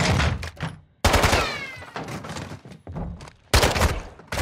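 Heavy gunfire in Call of Duty: Modern Warfare 2 (2022), loud close bursts of automatic fire and single shots that stop and restart in several volleys, with no talk.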